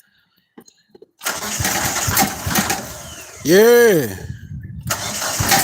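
A small gasoline engine driving a pump cranks and catches, then runs steadily at a loud, close idle, with a rising-and-falling whine in the middle as it revs. Brief taps come before it starts, and a person speaks briefly.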